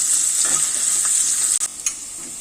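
Onions sizzle in a pan while being stirred, with a bright, steady frying hiss, a few scraping stirs and a brief clatter near the end, close up and alone.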